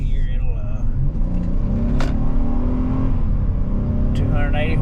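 A 2025 Honda Odyssey minivan's V6 engine, heard as a steady, loud hum of running and revving under a person speaking close by.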